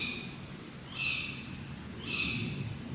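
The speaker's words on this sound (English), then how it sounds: "Some kind of bird." A bird calls in the woods at night, two faint, brief high-pitched cries about a second apart over quiet low background hiss.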